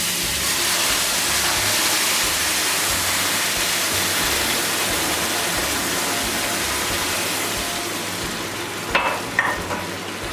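Water poured into a pot of bulgur pilaf with vermicelli, a steady rushing hiss that gradually eases, ending with a couple of brief clinks of the pot, close and with no talking.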